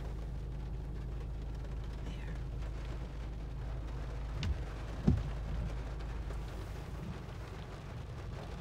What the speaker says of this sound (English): And it's really raining